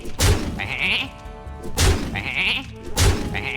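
Sheep in a Hearthstone card game bleat three times in a row, each nasal cry opening with a soft thump and spaced about a second and a half apart, loud and close with no talk.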